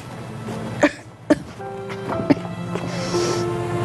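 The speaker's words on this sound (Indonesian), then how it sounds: "Ibu masih batuk?" Three sharp coughs at a steady spacing, close and clear, followed by a low murmur of voices in the background.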